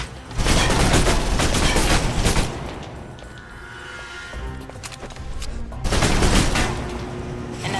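Submachine gun fire in the video game Alpha Protocol, with loud rapid bursts near the start and again toward the end and quieter echoing shots and clatter in between.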